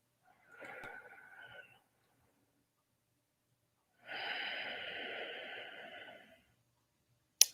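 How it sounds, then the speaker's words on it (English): Slow, deep breaths drawn in and let out through the nose, a short soft inhale followed after a pause by a longer, steadier airy exhale, close and quiet with nothing else around. "Let's take a nice deep breath"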